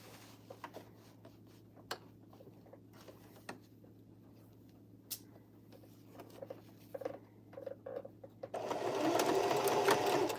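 Sewing machine stitching a fabric bucket hat, with a few brief back stitches and scattered fabric handling, then a steady close whirring run of stitching to the end.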